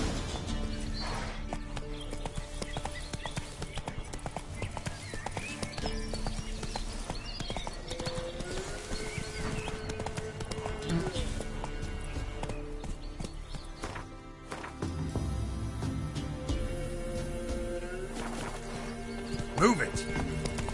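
Hoofbeats of a horse galloping in The Witcher 3: Wild Hunt drum in a rapid, steady rhythm over game music, with a character speaking over them and a brief whinny.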